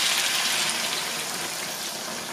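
Boiling-hot water gushes steadily into a pan over minced-meat zrazy patties, a continuous close splashing pour with no voices.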